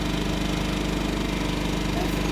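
A Champion 3400-watt inverter generator runs steadily in economy mode, its small engine droning close up at an even, moderate level with a slight rhythmic pulse.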